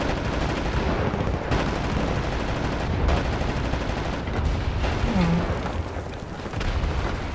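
Machine gun fire in the shooter video game Wolfenstein: The New Order, dense continuous bursts of gunfire and booms filling the whole stretch, loud and relentless.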